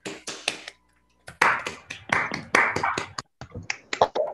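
Scattered applause and sharp claps from an online audience over open microphones at the end of a mathematics lecture, uneven bursts of close clapping with brief gaps.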